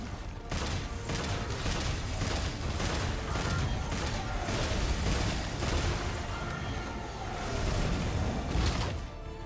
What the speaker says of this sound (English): That fireball came at me really fucking fast.